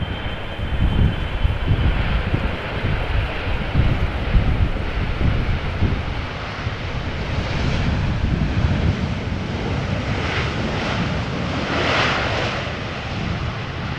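An airplane landing at Amsterdam Schiphol Airport in gusty crosswind, a steady loud roar of jet engines rising and sustaining throughout, mixed with wind buffeting the microphone.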